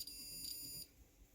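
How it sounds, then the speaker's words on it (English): Continuity meter beeping while its probes test a small wire on an HO-scale Genesis locomotive that isn't picking up power: one steady high tone held for most of a second, then cutting off, faint and close. "Turn on our continuity meter. Test for continuity."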